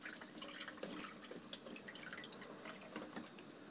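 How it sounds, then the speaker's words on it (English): Water trickling and dripping from an aquarium siphon hose while a baby fish tank is being cleaned, a steady, faint, close-up patter of drops and light splashing with no voices. "This is nicely dripping away."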